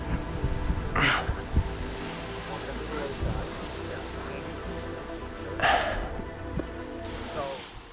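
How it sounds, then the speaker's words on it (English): Wind blowing across a paragliding launch site in Canada, gusty rushing and buffeting against the microphone with louder bursts, under faint speech-like sounds. "See, now the wind's blowing."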